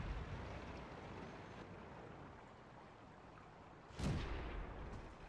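A single tank cannon shot in World of Tanks from an M22 Locust scout tank, a sharp burst near the end over a low, steady engine rumble, fairly quiet overall.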